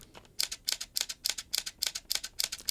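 Canon R100 mirrorless camera shutter firing in burst mode at three frames per second, a quiet, close, evenly spaced series of crisp mechanical clicks, alone.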